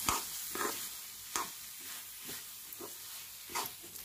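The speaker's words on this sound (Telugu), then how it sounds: "మనం ముందుగా వేయించి పెట్టుకున్న ఈ పప్పులన్నీ కూడా ఇందులో వేసి కలుపుకుందాం" Roasted nuts tossed into hot ghee in a pan for dry fruit laddu, giving a soft sizzle broken by several close spoon-and-pan stirring scrapes at an uneven rhythm, with no voices.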